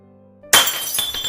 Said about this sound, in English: Glass shatters everywhere, and a bright red ooze splatters across the floorboards.